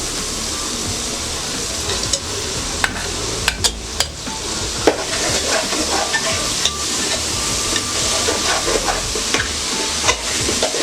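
Soya chunks sizzling and frying with chicken masala in a pan, with steady crackle throughout and sharp scrapes and clacks of a spoon stirring against the metal.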